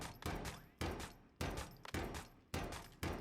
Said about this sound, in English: Let's shoot 1.